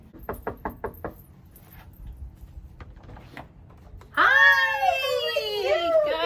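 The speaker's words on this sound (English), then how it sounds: "I'm getting ready to knock on the door" Four quick knocks land on a house door, close and distinct, followed by a couple of fainter taps before a child starts crying loudly nearby.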